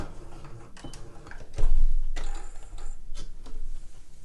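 A sewing machine stitching back stitches along a cushion cover seam, short bursts of rapid mechanical ticking with a louder thump partway through, close by and without speech.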